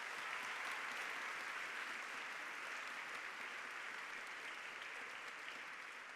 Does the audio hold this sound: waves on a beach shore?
no